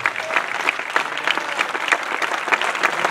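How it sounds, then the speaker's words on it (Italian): A crowd at a 2015 folk music show in Sarroch, Italy, gives a sustained round of applause, with many hands clapping densely and steadily at a moderate distance and no speech on top. "volevo dedicare anche un altro applauso"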